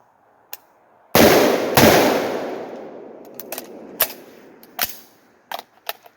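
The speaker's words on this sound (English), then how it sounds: "3 shots." An AR-47 rifle in 7.62x39 fitted with a cone flash reduction device: close, very loud sharp gunshot blasts with a long decaying outdoor tail, followed by smaller clicks and clinks of handling.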